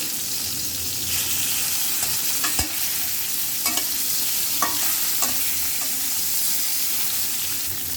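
Fish fries in a pan with a steady, loud hiss and sizzle, broken by occasional clicks and scrapes as it is stirred, close up and without talking.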